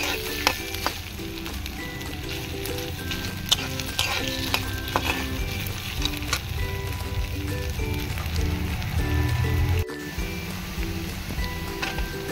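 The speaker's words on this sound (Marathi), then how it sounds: "बटाटा परतून झालाय।" Potatoes stir-fry in a pan for sabudana khichdi, a dense continuous sizzle with frequent scraping and tapping of a spatula stirring them, close and steady, with a brief break near the end.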